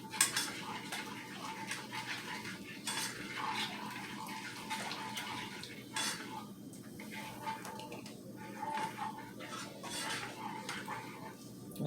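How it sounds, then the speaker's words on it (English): A spoon clinks and scrapes inside a pot while a seafood boil with light brown sugar is stirred, with repeated metallic taps and liquid sloshing at close range. "Give it a stir."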